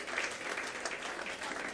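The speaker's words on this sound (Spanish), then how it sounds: "denle fuerte el aplauso al Señor." A church congregation claps together in a dense, steady burst of applause, close and continuous, with a faint voice underneath.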